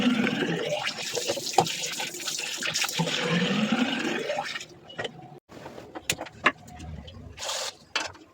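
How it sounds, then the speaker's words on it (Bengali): Water runs and splashes into a container for watering plants, a strong rushing pour for about five seconds, then trickles and scattered clinks and knocks as the flow stops and the vessel is handled. "তারপর আমি জল ভরতে এলাম"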